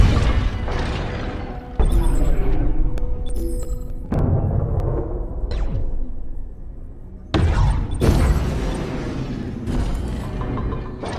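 Missile launches fired from a spaceship in a video game, a series of loud booming bursts and mechanical thuds that come in several waves over a steady low hum of game sound.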